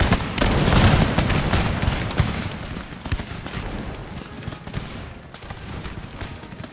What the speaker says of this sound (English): now release fire, volley fire immediately